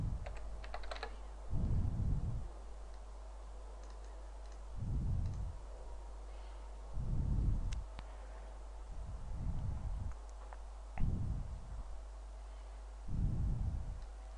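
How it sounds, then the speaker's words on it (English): Someone types a username and password on a computer keyboard in short bursts of close, clicky keystrokes, separated by brief pauses, with no one talking. "So you type your username and password."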